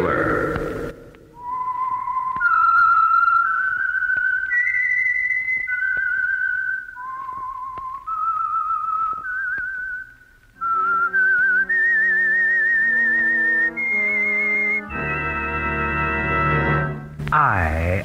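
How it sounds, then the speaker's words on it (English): A lone whistler carries the eerie signal melody of The Whistler radio mystery show, a clear, close, sustained tune of held and gliding notes, joined near the end by orchestral chords. "That whistle is your signal for the Whistler."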